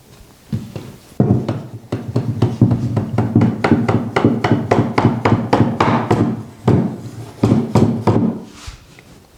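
A wooden dowel is tapped with a hammer into the mitered rail top of a bedroom dresser. Close, sharp knocks fall in quick, rhythmic runs of about two to three per second, with brief pauses between the groups and no talking.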